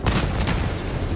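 Eagle airstrike explosion in Helldivers, a dense rumbling barrage of blasts with sharp bursts layered over a continuous low roar, loud and close.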